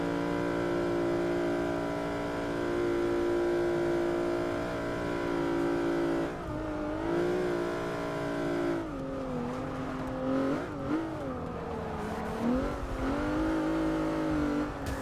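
Plymouth Prowler engine racing in Forza 6, a steady loud drone with rising and falling revs as the car shifts gears, sustained throughout with no talking.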